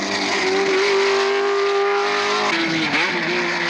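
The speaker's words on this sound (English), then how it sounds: "Mario Andretti and Ferrari number 19 leads the field as the race gets underway." Racing cars including a Ferrari 512S and Porsches at the 1970 Sebring 12 Hours howl at high revs, a loud sustained engine note that dips and climbs again as they accelerate away, with no talk.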